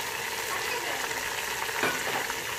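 Tomatoes, about 300 grams, fry with browned onions in a pan, giving a steady soft sizzle and hiss with light stirring, fairly quiet and close.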